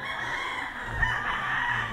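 Gray personal gamecock of Sir Biboy Enriquez crowing nearby, a single strained cock-a-doodle-doo rising over steady wind and background noise, with no talk.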